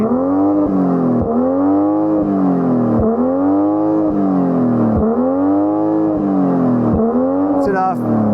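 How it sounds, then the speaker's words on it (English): Six-cylinder engine of a BMW M240i revved while standing still, loud close rising and falling revs repeated about six times in a steady rhythm, with a few faint pops at the end. "you can rev it while standing still all the way to the red line"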